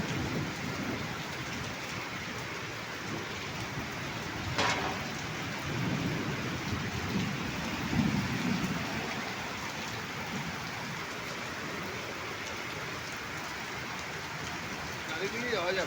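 Heavy rain pours steadily in a storm as the wind eases, a dense constant hiss that never lets up, with a faint rumble and brief indistinct voices beneath it.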